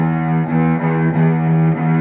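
A bowed cello played with heavy bow pressure, the index finger pressing into the string, giving a rich, gritty sustained tone in a few strong strokes with slight breaks between them, close and loud with no talking.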